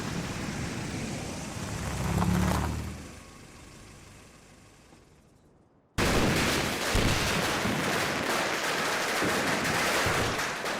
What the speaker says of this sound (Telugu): ఏ పిచ్చోడ్ల టపాసులు పేల్చేది?